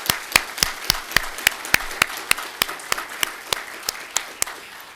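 Sparse applause at an employee recognition ceremony: only a few people clapping in distinct, evenly spaced sharp claps over about five seconds, fairly close in a quiet room.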